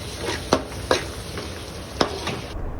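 Chicken stock goes into a pan of sizzling masala and tomatoes, giving a soft, steady frying hiss broken by a few sharp spoon clinks and scrapes, with no voices.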